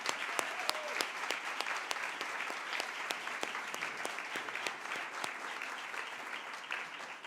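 A forum audience gives a sustained round of applause for the sponsors. Dense, even clapping from many hands carries on steadily throughout and sounds somewhat distant and soft.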